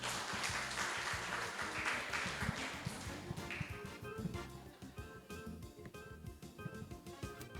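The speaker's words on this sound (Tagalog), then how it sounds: "Palakpak po sa buhay na Diyos sa buhay po ni Sister Cecil Baroso." Congregation applause during a midweek fellowship service at a church in Tanza, faint, scattered claps rising and thinning out over several seconds, heard at a distance with a soft tonal background underneath.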